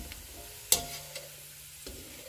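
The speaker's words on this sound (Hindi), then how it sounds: "अब हम मखानों को भी फ्राई कर लेते हैं।" Makhana (fox nuts) frying in a pan for Punjabi dal panjiri, with a sharp clatter as they drop in, then a soft, steady sizzle and one more knock near the end, heard close with no talk.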